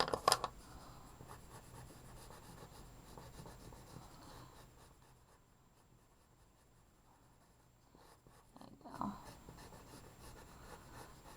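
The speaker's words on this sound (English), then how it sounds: "I'm gonna go back and darken my lines again." Pencil drawing and darkening lines on paper for a winter-themed self-portrait, close, quiet scratchy strokes that come in short bursts, fade to near silence midway, then resume.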